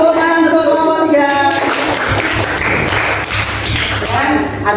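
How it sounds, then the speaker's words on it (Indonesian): Classroom applause for a student group, a dense burst of many hands clapping that starts about a second in and carries steadily to the end, with voices mixed in at the start. "Tepuk tangan untuk kelompok 3."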